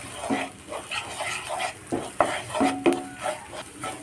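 Eggs are scrambled in a pan of coconut oil left from roasting potatoes, with repeated close scraping and clattering of a utensil against the pan over a faint sizzle.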